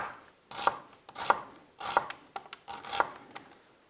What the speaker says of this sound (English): Just put them in half and then we slice them about 4 millimeters, something like that.